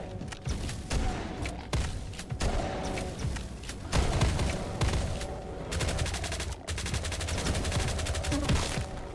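Sustained assault rifle fire from a dark industrial first-person shooter, dense rapid bursts running nearly the whole stretch with loud, close, rattling shots.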